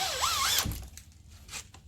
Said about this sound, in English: Alright, so I'm going to start with a smaller drill bit.